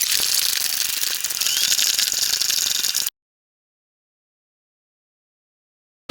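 Screws and hardware being tightened while assembling a Bright Room 6-cube organizer shelf, a loud, busy run of ratcheting, rattling mechanical noise for about three seconds, then silence.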